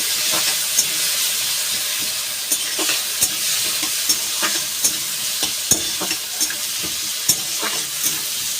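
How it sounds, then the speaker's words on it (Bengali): Chopped onion and tomato stir-fried in oil with a spatula: a loud, steady sizzle punctuated by regular scraping clicks of the utensil against the pan, about one every half second. "এবার খুঁজি দিয়ে ভাজা ভাজা করতে থাকবো"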